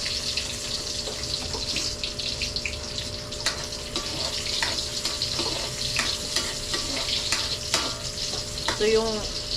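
Garlic and onion fry in a pan with a continuous close sizzle, broken by occasional stirring scrapes and clinks.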